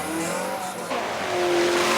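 Mod lite race cars speed around a short oval racetrack at Brewerton, engines roaring loud and steady with a sharp pitch change as the cars pass close by.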